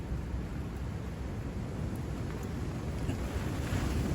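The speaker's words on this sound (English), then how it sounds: "the wind's getting worse from 6 till 7" Strong wind gusting over a lake, a constant broad rushing roar with low buffeting rumble against the microphone, steady and unbroken throughout, with no voices.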